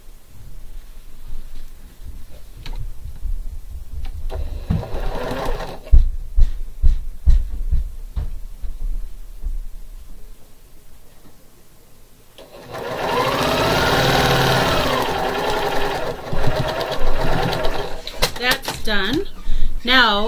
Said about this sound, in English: sew those together, kind of like star legs